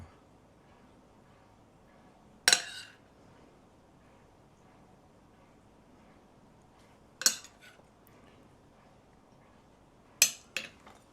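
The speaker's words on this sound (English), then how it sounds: "Let's finish it off with a little extra spoon of that sauce." Spoon clinking against a dish while extra sauce goes onto Italian meatloaf, three short bright clinks spaced several seconds apart over a quiet room, close and fairly crisp.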